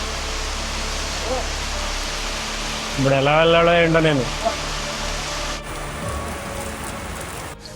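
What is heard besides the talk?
heavy rain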